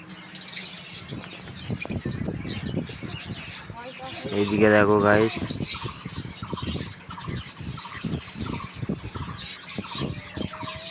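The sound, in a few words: young lovebirds chirping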